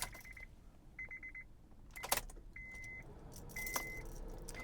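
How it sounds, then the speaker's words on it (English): Car keys jangle and clink in short bursts as they are handled beside a 2009 Honda Civic EX-L, several distinct metallic rattles close by against a quiet background. "So we will take our keys."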